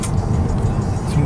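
Steady road rumble of a car driving over a causeway toward a ferry port in North America, a continuous low engine and tyre drone throughout with no distinct pass-bys.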